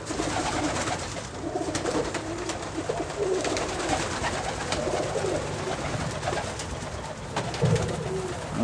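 Russian Statnyje pigeons cooing among rhododendrons and azaleas, soft repeated coos over a dense bed of outdoor ambience and rustling, fairly close, with no talking.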